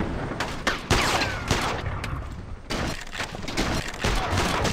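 Rapid bursts of gunfire and explosions in the PC shooter Iron Storm, loud and dense with overlapping volleys and heavy booms across the whole stretch.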